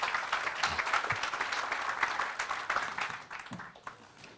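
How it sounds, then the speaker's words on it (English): An outdoor crowd at a land dedication event for a veterans' village claps steadily for several seconds, a dense moderate applause that thins out toward the end. "Let's give her a round of applause for all of her hard work and her dedication to the work within the veterans community."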